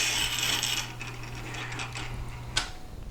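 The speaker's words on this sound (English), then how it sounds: "Now you can hear a consistent scratching as the surface is the same level all the way around the stone." Steady abrasive scratching of a chisel on a freshly trued Tormek T-8 sharpening stone, a continuous gritty hiss under a low constant motor hum, heaviest at the start, with one brief sharp click near the end.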